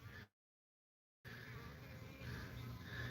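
Honey bees buzz in an opened beehive, a soft continuous drone that cuts out briefly near the start, then returns and swells slightly, faint and close.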